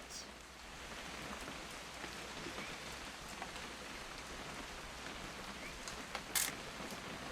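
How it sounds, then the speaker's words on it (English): Steady rain patters in The Remains of Edith Finch, a soft even hiss at low level with a brief brighter tick near the end. "It's gonna rain the whole weekend, isn't it?"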